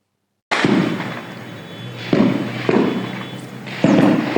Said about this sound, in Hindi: ये फायरिंग ना हमारे इधर पीछे ही ना फायरिंग वगैरह सुबह के टाइम हो रही होती है